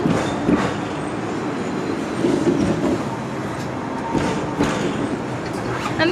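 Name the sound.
riding a Hong Kong tram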